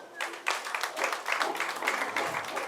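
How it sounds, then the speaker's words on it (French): Audience at a fashion show with models applauds in a short, moderately quiet burst of clapping, scattered hands building into a steady patter for a few seconds. "Applaudissez-vous."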